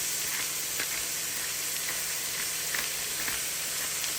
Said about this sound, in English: That beef is just starting to sear a bit.